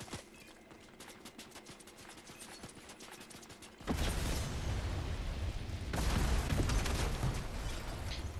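Video game explosions and gunfire in a multiplayer match: rapid mechanical clicking gives way to a loud sudden blast, then a second heavier boom with sustained rumbling debris, no talk.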